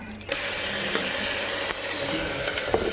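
Ginger garlic paste sizzling in a pan for mutton biryani, a steady dense crackle and hiss close by, with a few faint scrapes and clicks of stirring.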